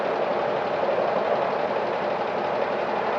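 A John Deere model 40 crawler engine runs in a steady, loud, continuous drone without pauses, its idle holding an even throb from start to finish with no voices.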